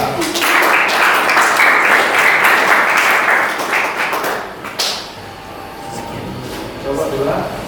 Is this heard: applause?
yes